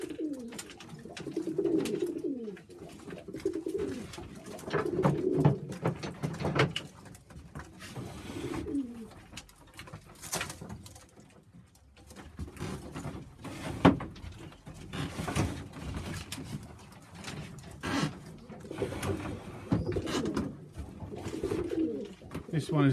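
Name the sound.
Sheffield Tippler pigeons cooing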